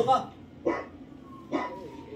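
A dog barks a warning three times in a tense scene from The Last of Us, sharp spaced barks at moderate distance with quiet background between them.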